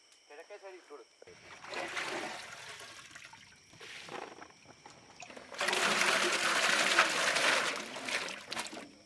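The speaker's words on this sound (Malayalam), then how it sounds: "വെള്ളം തിളച്ചിട്ടുണ്ട്, അരി ഇടാൻ പോവാ." Water boils in a large pot for traditional Swami kanji, cooked for a big gathering before the rice goes in. A rushing, bubbling hiss swells and stays loud through the second half, with faint voices in the background.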